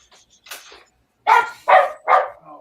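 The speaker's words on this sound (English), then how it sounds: "Who's that barking?" A dog barks three times in quick succession, loud and close, after a few softer, fainter yips or whimpers at the start.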